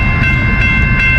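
A Norfolk Southern train rumbles past close by, a loud continuous low roar with a faint rhythmic clatter of wheels, no voices.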